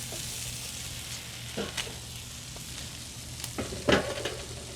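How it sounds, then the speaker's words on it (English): Chunks of cherry hardwood are dropped onto hot smoker coals, giving a constant crackling sizzle punctuated by a few thumps and a louder knock near the end. "I've got a couple of these chunks of cherry hardwood. I'm going to throw that on."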